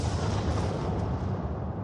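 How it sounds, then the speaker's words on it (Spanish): Sustained roaring blast of an atomic bomb detonation, a dense, loud rumble filling the whole stretch without a break and without any voices. "la detonación de la bomba liberó la energía equivalente a 21 kilotones de TNT"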